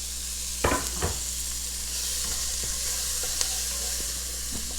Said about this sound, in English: put in the onion. And the red pepper, or whatever color pepper you chose.